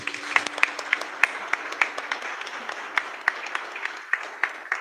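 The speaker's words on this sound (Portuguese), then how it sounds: "Uma salva de palmas para o nosso Deus." A church congregation claps at a Portuguese-language worship service, scattered individual claps standing out sharply over a soft background, loosely rhythmic and moderately distant, with a faint voice in the mix.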